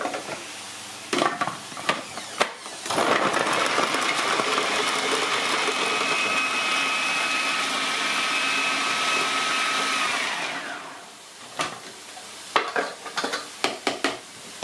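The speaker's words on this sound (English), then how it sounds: "Put them in the food processor." A food processor chops vegetables for a beef steak stew in a home kitchen, a steady whirring motor buzz lasting several seconds, framed by short clattering knocks and handling noises before and after, no talking.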